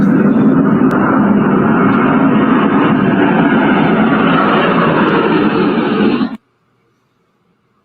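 Engines of a C-17 military transport aircraft produce a loud, steady roaring rumble that holds for about six seconds and then cuts off abruptly into near silence.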